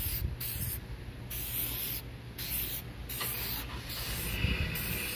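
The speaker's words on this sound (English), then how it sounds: "Just spray evenly like that, and you're done." Bursts of spray from a bottle of cleaner misted evenly onto a car headlight during restoration, several short hissing puffs in a steady rhythm, close and fairly quiet with no talking.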